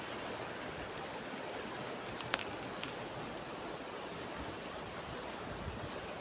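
The Dupinga river runs fairly swiftly, giving a steady, even rush of flowing water with a faint hiss of wind and a couple of tiny clicks.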